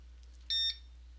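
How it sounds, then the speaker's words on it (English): An electronic device in an apartment room gives a short, shrill, high-pitched beep of about a quarter second, double-pulsed, standing out clearly over a low steady hum. "Stop beeping."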